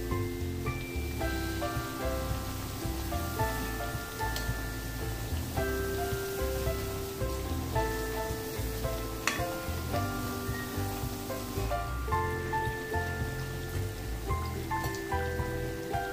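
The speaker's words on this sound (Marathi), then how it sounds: "अशी व्यवस्थित मध्यम गॅसवर तळून घ्यायची, हे बुडबुडे कमी झाले की भाजलं असं समजायचं" Bhajani chakli deep-frying in oil over a medium flame gives a steady, even sizzle that runs throughout, mixed under fairly loud melodic background music.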